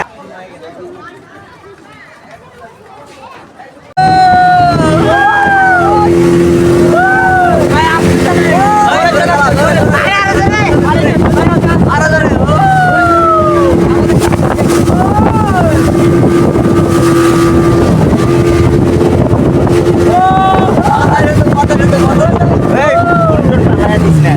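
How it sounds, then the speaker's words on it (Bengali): A speedboat in a holiday park runs loud and continuous after a quiet start, its motor drone mixed with wind buffeting the microphone and a crowd of people chattering and calling out throughout. "গাইজ আমরা এখন স্পিড বোটে উঠবো"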